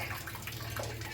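Water running from the tap of a water filter dispenser, a brief steady splashing stream close by with no speech.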